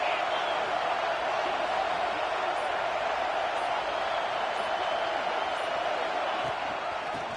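Dense roar of a football stadium crowd at a home game, a steady loud wash of voices and cheering holding through the whole stretch with no breaks.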